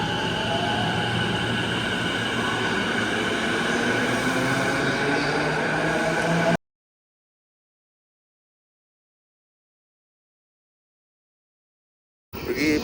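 A Tokyo Metro train rumbles and hums with squealing tonal whines, then sudden silence before the roar returns briefly at the end.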